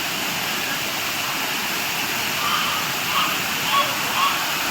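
The waterfall at Ramoji Film City gives off a loud, steady, unbroken roar of falling water. Faint voices rise briefly above it now and then.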